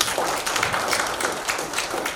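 An audience applauds at a corporate governance and ESG summit, a dense, steady wash of many hands clapping that holds even throughout, fairly close and loud, with no voices rising above it.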